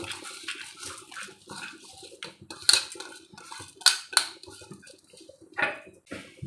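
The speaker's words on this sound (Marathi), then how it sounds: "आता आपल्याला यामध्ये घालायचं आहे स्वच्छ धुवून घेतलेला बासमतीचा ता तांदूळ" Washed basmati rice tipped into a pan and stirred with a metal spoon, giving clinks, scrapes and grainy rustles in uneven bursts, close and moderately loud, with no talk.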